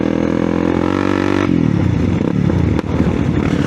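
An enduro motorcycle at a trail-riding meet in the Phu Langka hills, engine droning loud and close, then revving and clattering over rough ground with a sharp knock near the end.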